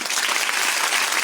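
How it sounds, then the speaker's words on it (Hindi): Congregation applause in a church service, with a brief, dense patter of clapping from many people that stays steady and fairly close, heard alone without talk. "उनके लिए भी ताली बजा दें।"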